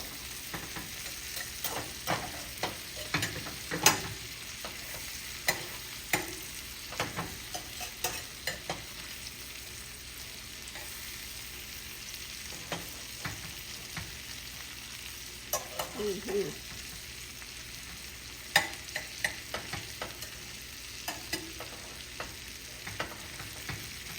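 Garlic cloves and a bay leaf sizzle steadily in a pan with rosemary, a continuous close fry hiss broken by frequent light clicks and scrapes of stirring, no voices.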